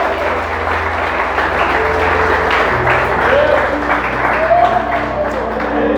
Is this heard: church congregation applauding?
yes